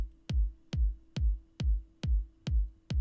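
Techno kick drum sample after heavy FX chain processing: seven fat, sustained low kicks at an even pulse, each with a crisp attack and a longer, fuller boom filling the gaps, heard alone.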